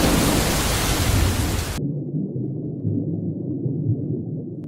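A heavy rumble of thunder rolls with pouring rain during a storm in Brisbane, then the rain cuts out, leaving a low, muffled rumbling that continues to the end.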